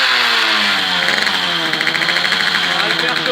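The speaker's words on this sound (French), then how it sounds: "Donc là c'est reparti, moteur en route." An engine fires up close and loud, then settles into a rough, pulsing run with rising revs, a continuous mechanical throb from start to finish.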